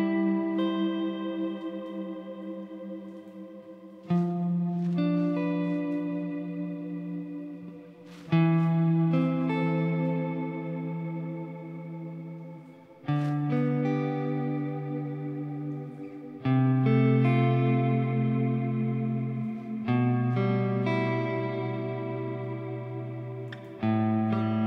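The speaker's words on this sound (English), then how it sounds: "Let's put on like a nice long reverb from the Eventide" Chords played one after another, each ringing into a long, lush reverb from an Eventide effects unit, the tails swelling and overlapping between strikes.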